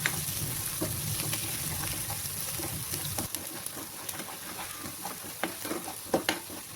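Whole spices and masala fry in a pan for paneer masala, a quiet crackling sizzle broken by scattered clicks and scrapes as they are stirred.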